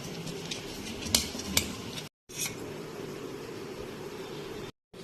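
A spoon stirs dahi vada batter with salt and asafoetida in a bowl, giving soft continuous scraping with a couple of light clinks against the bowl, faint over a steady background hiss.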